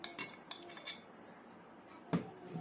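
A spoon clinks repeatedly against a bowl while mixing turmeric powder and salt for aloo pakora batter, a few scattered taps followed by a louder scrape and clatter near the end, close and without speech.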